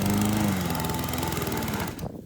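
A lawn mower cutting through really long grass runs as a loud, steady engine drone close by, fluctuating slightly under load before cutting off abruptly near the end.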